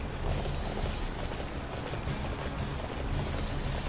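Horse hooves in the video game Dynasty Warriors 9 pound in a steady, continuous gallop with dense clip-clop rhythm, mid-loud and close, with no talk over them.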